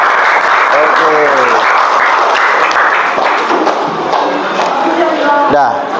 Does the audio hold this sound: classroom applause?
yes